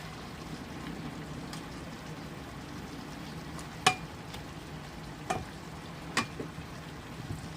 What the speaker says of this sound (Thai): ก็จะเติมน้ำต้มสุกลงไป เติมน้ำต้มสุกลงไป